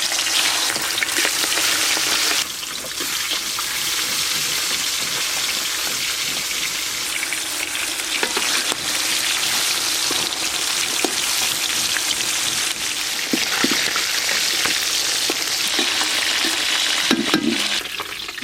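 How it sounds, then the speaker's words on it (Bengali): Silver carp pieces sizzle steadily in hot oil, a dense continuous crackle with occasional louder spits and stirring clatter near the end, close and loud with no voices. "এবার মাছগুলো ভেজে নেব।"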